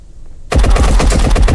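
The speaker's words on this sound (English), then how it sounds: "Oh, shit, you're shooting me!" Loud, rapid automatic gunfire from the video game Marauders erupts abruptly after a half-second of near silence, a dense, continuous burst of shots at close range with no talking.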